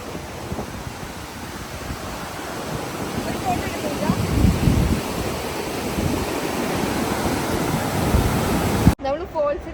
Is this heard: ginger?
no